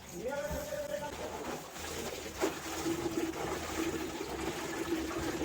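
Water runs and splashes steadily as saag greens are washed by hand at a home kitchen sink, a continuous close trickle with faint clinks and no talking.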